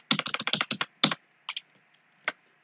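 Rapid burst of computer keyboard key presses, repeated backspace taps in a quick even run, followed by a few isolated single keystrokes after short pauses, close and clear with no talking.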